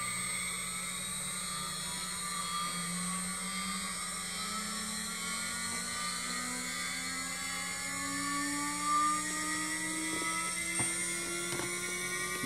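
A CNC router spindle winding up to speed, a loud steady high-pitched whine with slowly rising tones and a constant hum beneath, no talking.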